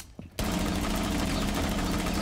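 Rapid automatic gunfire in a first-person shooter game bursts in after a brief quiet moment, a loud, continuous rattling stream of shots that runs unbroken to the end.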